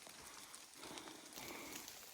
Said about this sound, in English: And it's still raining pretty good.